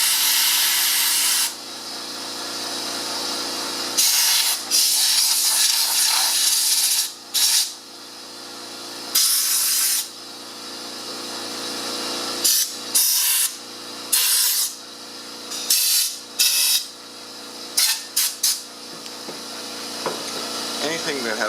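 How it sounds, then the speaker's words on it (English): Compressed air from an air compressor blasts dust off a bellows box in a string of sharp hissing bursts, some long and some quick, close and fairly loud, with short pauses between them and no talking. "I'm going to turn on a compressor, blow things off, wipe it down"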